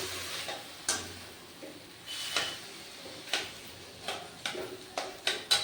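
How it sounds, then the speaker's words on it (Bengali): Papaya frying in oil with garlic for dal, a low background sizzle broken by a series of sharp spatula scrapes and taps against the pan at irregular intervals. "তেলের সাথে পেঁপেটা একটু ভাজা ভাজা করে নেব।"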